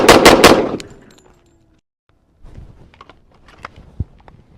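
Rapid string of pistol shots from a Kimber Rapide 1911 on a range, three loud close cracks in quick succession, then quiet and faint shuffling and clicks.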